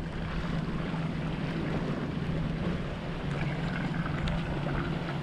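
A Hallberg-Rassy 50 sailboat under sail in light wind of about 8 knots, a steady broad rush of water along the hull mixed with wind noise, constant and fairly loud.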